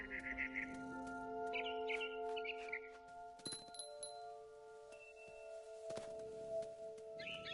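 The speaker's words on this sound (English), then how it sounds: "Then I heard chirping outside my window. It was a barn swallow going back to her nest." Barn swallow chirping in the game What Remains of Edith Finch, short bursts of twittering calls repeated through the clip, alongside faint clinks and a background tone.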